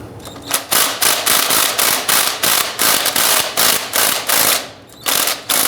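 A ratchet wrench loosens the transmission pan screws on a 2005-2010 Chrysler 300, with loud, close bursts of rapid clicking in quick repeated strokes, a brief pause, then one more burst.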